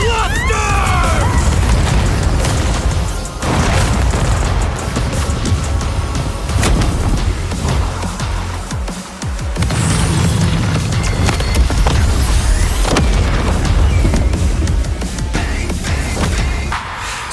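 Dense, booming explosion attacks from Bakugo in a fighting video game crackle and burst continuously, layered with game effects and background music at high volume.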